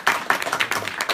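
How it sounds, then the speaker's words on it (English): A brief burst of audience applause at a UN Habitat youth report launch, heard as quick, close clusters of claps in just over a second. "let's give Marvin and Doug a big round of applause."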